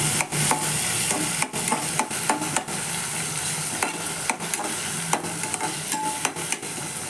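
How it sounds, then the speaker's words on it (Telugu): Tomatoes stirred and fried in a pan for tomato rice, a steady close sizzle broken by repeated scraping and clacking stirring strokes, with no voices. "ఇవన్నీ మిక్స్ చేసుకొని టమాటాలు వేయాలి."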